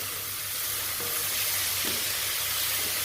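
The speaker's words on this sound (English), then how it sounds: "To this I am going to add mushrooms and ginger garlic paste." Mushrooms and ginger garlic paste sizzle steadily in a hot pan as they are stirred for sautéed tofu with broccoli, a constant close frying hiss with no talk.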